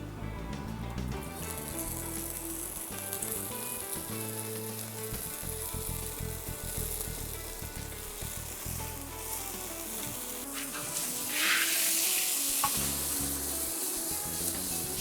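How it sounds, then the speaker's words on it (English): Beef frying in a hot saucepan gives a steady close sizzle throughout, with faint stirring and scraping, and the hiss swells louder near the end as more meat hits the pan. "As it's sizzling, I'll just sprinkle this beef around the"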